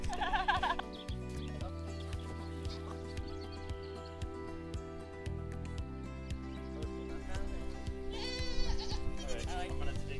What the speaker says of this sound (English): Cute little baby goat.